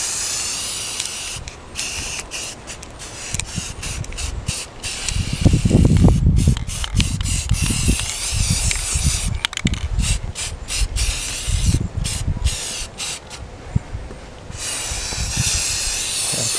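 A spray paint can hisses in steady bursts over dried allium flower heads in a Wisconsin garden, a continuous airy spray that swells and fades, with rumbling handling noise and outdoor background underneath.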